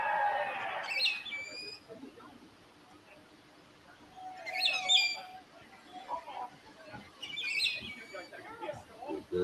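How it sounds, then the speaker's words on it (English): Birds at IKON Park, a football ground, chirp in a few short bright bursts spaced several seconds apart, fairly faint over a steady background murmur of an outdoor venue. "Bird chirp away"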